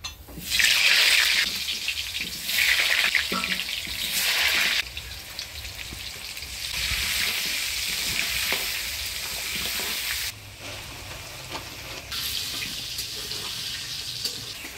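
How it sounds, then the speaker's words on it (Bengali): Potatoes for a chicken curry frying in oil with turmeric and salt, a loud, close sizzle that swells and drops in bursts as they are stirred, with a stretch of running water and no talk. "এবার মাংসের আলুটা হলুদ লবণ দিয়ে ভেজে নিব।"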